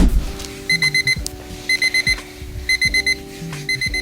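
An alarm clock going off in rapid bursts of four to five electronic beeps, loud and near, repeating in cycles over a low background drone, with no voices.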